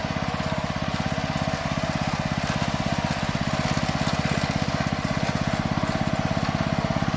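A tractor engine chugs steadily with a fast, even pulse, loud and close, running without a break and no voices, on a farm at sowing time in Konkan.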